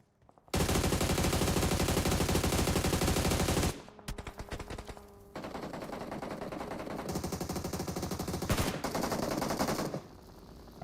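Gunfire from the mobile battle-royale game PUBG Mobile during a North America scrim match: loud, sustained automatic bursts fill almost the whole stretch, with a brief gap and then another long volley, and no talking.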